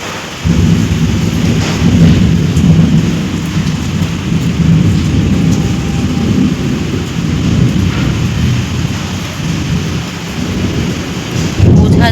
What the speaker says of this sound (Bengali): আওয়াজ তো শুনতে পাচ্ছ কী হারে মেঘ ডাকছে